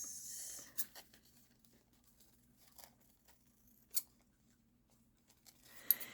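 Paper being trimmed to size with scissors, several separate crisp snips spaced out and close by in an otherwise quiet room.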